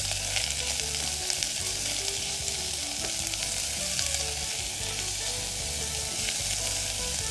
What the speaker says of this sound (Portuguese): Então eu vou colocar aqui um azeitinho, ó. Vou dar uma mexidinha.